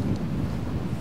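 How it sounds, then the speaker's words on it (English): Wind gusts over an open golf course, a dull low rumble buffeting the microphone steadily for a brief moment with no voices. "Wind's picking up."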